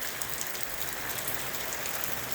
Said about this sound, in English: rain the entire day today. The entire day.